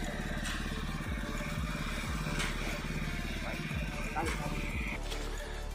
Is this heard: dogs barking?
no